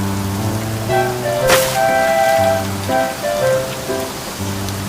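Steady rain pattering on a surface, a continuous hiss with a brief louder splash partway through, under a low musical background.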